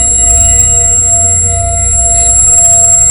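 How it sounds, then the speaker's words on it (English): A very loud, steady electronic tone is played at a drinking glass, a sustained piercing drone with high harmonic whine layered over a rumbling low hum, constant throughout without pauses. "a glass is being exposed to a very loud frequency of sound"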